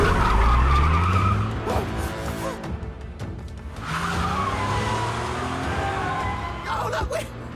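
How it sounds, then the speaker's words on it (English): Car tires skid and squeal under a revving engine in an action film car chase, loud and close, with a shout and dramatic film sound layered over it. "Sure, the car's driving by itself."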